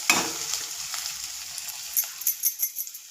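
Tomatoes are stirred into a capsicum and potato curry frying over a low flame, giving a soft sizzle and a few light scrapes and clinks from a spoon against the pan, fairly quiet and close.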